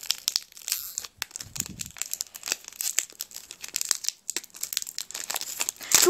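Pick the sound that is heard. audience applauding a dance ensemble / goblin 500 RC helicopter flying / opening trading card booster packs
opening trading card booster packs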